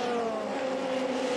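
FIA Formula 3 race cars on the Spa circuit climb Raidillon onto the Kemmel Straight. One high, steady engine whine holds close and loud without a break, with no talk over it.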